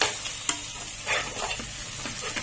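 Onions frying in a pan until golden brown for an egg curry, a steady close sizzle with soft scraping stir strokes and a sharper utensil knock near the start.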